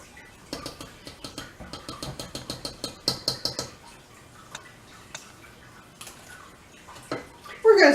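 Homemade spicy BBQ sauce ingredients, including mustard, get stirred together in a pot, making a run of rhythmic clinking taps of utensil on metal, then scattered knocks and a louder clatter at the end.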